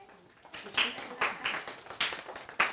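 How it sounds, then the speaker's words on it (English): A small group claps in scattered, uneven bursts, close and moderately loud, for a few seconds. "Give her a round of applause"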